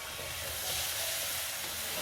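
Chili and chopped tomatoes cooking over medium heat in a pan, a soft, steady sizzle and hiss, brief and continuous, with no voices.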